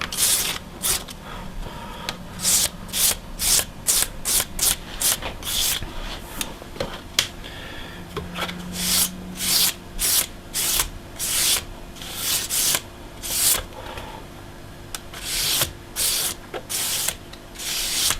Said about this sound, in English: you're just rubbing the cork side very lightly